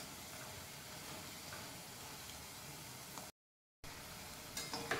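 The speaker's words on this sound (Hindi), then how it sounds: "पकोड़ों को धीरे धीरे टर्न करके और धीमी आंच पे फ्राई करते रहेंगे।" Pakoras slowly frying in oil on a low flame give a steady, soft hiss and sizzle throughout, close and even, with a brief dropout near the end before the crackle returns.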